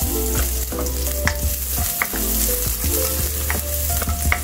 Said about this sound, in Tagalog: So igigisa na natin yung ating garlic.